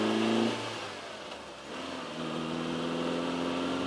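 A green car accelerates hard with an early upshift: steady engine drone climbs, dips briefly at the shift, then rises again, fairly close and with no voices.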